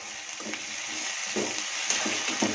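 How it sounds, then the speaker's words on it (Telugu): Onion paste fries in a pan for a Godavari-style fish curry, a steady low sizzle with several soft stirring scrapes spaced through the short stretch, close by and with no talking. "ఉల్లిపాయ ముద్ద వేగిందో లేదో చూద్దామండి"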